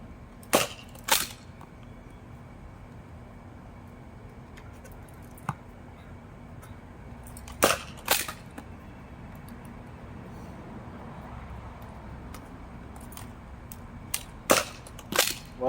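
A worn Nerf shotgun blaster fires foam darts in sharp, close pops, singly and in quick pairs with gaps of several seconds between, over faint background noise.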